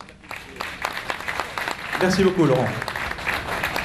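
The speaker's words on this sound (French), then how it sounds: "On l'applaudit." Audience members at an evening event applaud the France director of Quick as he is introduced. The clapping is moderate and continuous, building near the end, while someone speaks briefly over it.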